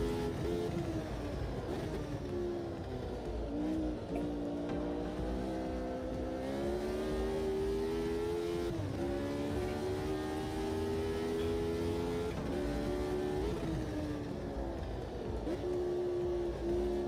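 Formula Retro Gen 1 race car in a video game at historic Silverstone, its engine droning steadily and loud throughout, pitch climbing and dropping through repeated gear changes with no talk over it.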